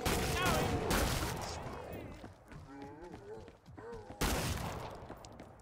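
Gunfire from the video game Killing Floor 2, a burst of loud sharp shots at the opening, then quieter scuffling and creature-like sounds, before another sudden heavy blast near the end.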